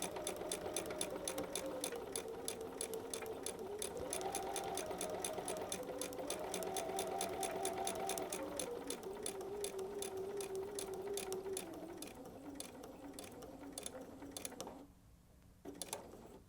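BERNINA sewing machine stitching through fabric and paper for foundation paper piecing, running steadily and close with a rapid, even mechanical chatter and a whirring motor pitch that shifts slightly, easing off briefly near the end.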